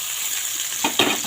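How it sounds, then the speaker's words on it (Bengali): Chopped onion going into garlic already frying in hot oil, with a steady sizzle that briefly surges and crackles twice as the onion hits the pan; no talking. "তারপর এতে রসুনটা একটু ভাজা হয়ে গেলে এর মধ্যে আমি পেঁয়াজ কোচানো দিয়ে দেব।"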